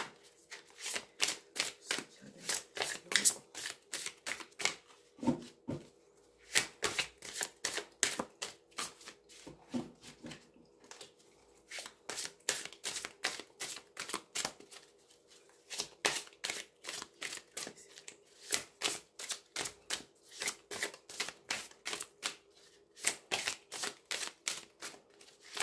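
Oracle cards shuffled by hand in repeated crisp riffling bursts, a rapid rhythmic flutter of card edges with short pauses between rounds, close and alone without talk.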